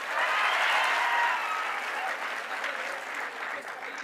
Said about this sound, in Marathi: ह्या उभे राहणाऱ्या लेकरांसाठी एकदा जोरदार टाळ्या होत्या पहा